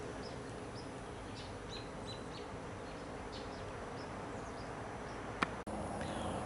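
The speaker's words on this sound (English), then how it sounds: "It is so peaceful and quiet, and you can hear the birds." Birds chirping outdoors on a quiet Thanksgiving Day in the countryside, scattered faint calls from a distance over a constant hum of insects, with one sharp close click near the end.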